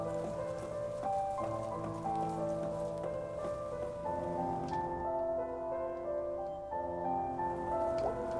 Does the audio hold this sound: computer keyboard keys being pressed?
no